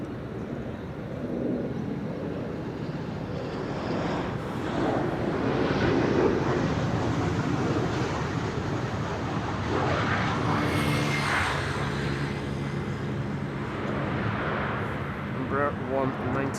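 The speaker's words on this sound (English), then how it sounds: "Embraer 190 landing here" Embraer 190 airliner landing at Amsterdam Schiphol Airport, a steady broadband jet roar that swells toward the middle and holds, with wind buffeting and people talking over it.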